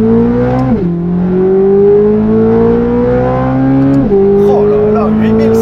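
A Corvette C8 Z06's naturally aspirated V8 revs hard toward 8500 rpm, a loud, close wail that climbs steadily, drops sharply at two upshifts and climbs again, with a voice talking over it.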